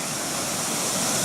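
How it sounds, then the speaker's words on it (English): Steady, full rushing roar of a small waterfall at Hanging Lake, Colorado, close and continuous with no voices. "It's an awesome little waterfall"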